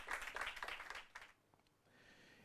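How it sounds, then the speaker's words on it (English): Audience applause for law student contestants at a university law quiz competition, a brief burst of clapping that fades after about a second into quiet room tone. "A round of applause for our contestants."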